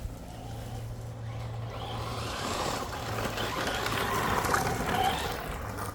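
A Traxxas Raptor R RC truck hoons at high speed over rough terrain, its electric motor whining and rising in pitch as it bounces along, moderately close with a gritty rumble of tyres and chassis.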